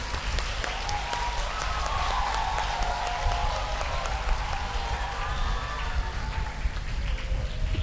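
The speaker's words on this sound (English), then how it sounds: "Please clap for all the participants, please." An audience applauds participants at a drama competition, producing steady, dense clapping that holds at an even level from start to finish like a wash of rain, with no voices standing out.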